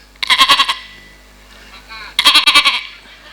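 A voice imitates a young goat, giving two bursts of rapid, high, quavering bleats separated by a brief quiet pause, close and clear.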